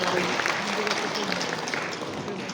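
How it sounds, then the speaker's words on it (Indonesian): Audience applause at a community event promoting a clean, safe and comfortable tourist market, steady dense clapping filling the whole stretch at a moderate, even level. "bolehkah kita berikan aplaus meriah untuk Ibu Cika bersama"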